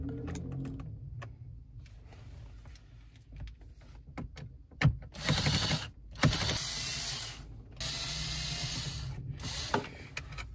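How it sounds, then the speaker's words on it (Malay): Screws holding the radio of a Perodua Myvi Gen 3 car are undone, with low rumbling handling noise followed by bursts of whirring and ratcheting from a power tool, close by and without speech. "sekarang ada 4 skru yang ikat radio ni. Jom kita buka."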